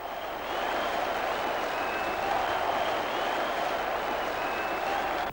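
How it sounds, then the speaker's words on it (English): At Anfield, the Kop crowd sends up a broad, sustained roar of applause after a Toshack goal for Swansea City, heard as a steady wash of distant noise without pause. "The Kop at Anfield had never applauded a Toshak goal more."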